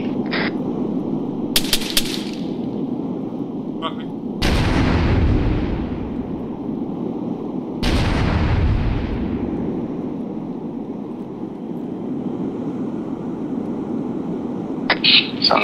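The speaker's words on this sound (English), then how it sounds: "Sounds like those demo blocks are ineffective against those tanks." Demolition block explosions and gunfire in the military shooter ARMA 3, with two heavy booming blasts that roll off slowly and a few sharp distant gunshot cracks scattered over a low background rumble.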